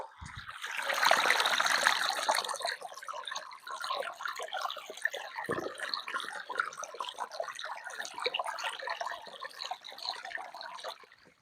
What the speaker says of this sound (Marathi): गाईस तुम्हाला पाण्याचा आवाज ऐकायचा का.